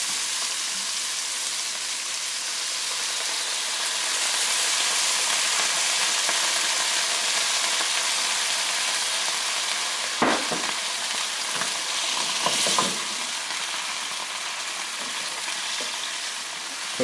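Wine goes into a hot pan of sizzling green onions, and the steady frying hiss breaks into a few brief bursts of bubbling and spattering before settling again.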